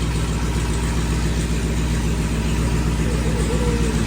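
A 900 hp supercharged, bagged Dodge Hellcat idles right after its first startup, a loud, steady low rumble with a constant throb and no revving, heard close up with barely any talk over it.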